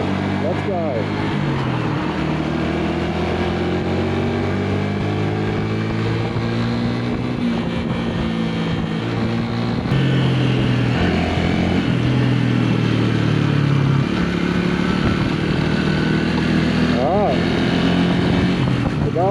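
A 125cc motorbike riding steadily on a road, its engine droning loud and close with shifting pitch as it changes speed, wind rushing throughout and the engine note rising and growing louder about halfway through.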